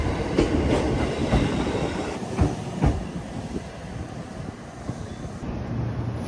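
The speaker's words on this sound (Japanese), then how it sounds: "豊橋駅を、なんと52分後に出発した普通電車が、追い越していってしまいました。" A local train on the Iida Line passes a halted express at a station, a steady rumble of rolling stock with a few clattering wheel knocks, heard alone and fairly close without any voices.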